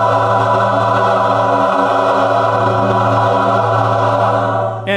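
A vocal ensemble sustains a rich chord on an open ah vowel, the basses on a flat seventh, loud and steady for several seconds before it cuts off at the end.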